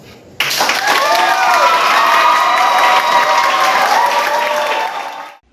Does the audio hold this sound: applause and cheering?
yes